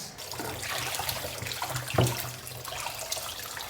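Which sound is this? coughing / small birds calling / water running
water running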